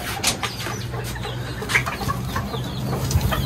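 Bantam chickens cluck steadily in a group, the soft repeated clucks close by over a low background hum, with no one talking.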